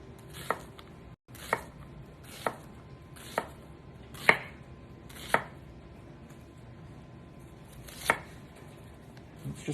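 A knife chopping an onion on a cutting board in a home kitchen, eight or so sharp, evenly spaced knocks, close and clear against a quiet room.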